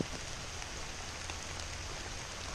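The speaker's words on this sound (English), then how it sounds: "rain doesn't bother me" Steady rain patters on the surface during a hike near Jim Thorpe, Pennsylvania, a continuous dense hiss with faint drop ticks close by and no talking.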